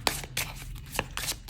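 A new tarot deck being shuffled by hand, close and continuous riffling card noise with several sharp bursts of flicking cards in quick succession.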